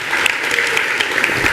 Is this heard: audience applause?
yes